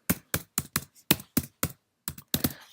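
Crisp, close keystrokes on a computer keyboard, about ten separate taps in an uneven rhythm with short pauses, and no voices.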